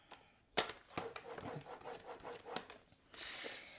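Cardstock is scored on a paper trimmer in a craft setting, a faint series of soft scraping strokes and clicks close by, ending in a short rasping slide.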